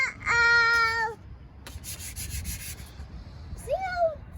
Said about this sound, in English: he's been sanding on this thing for like 3 hours